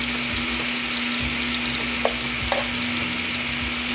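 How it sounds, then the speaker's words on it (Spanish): Onion sizzling in a pan over high flame before a sauce goes in, a steady close frying hiss with a couple of light stirring scrapes. "Antes de echar la salsa, vamos a sofreír nuestra cebolla."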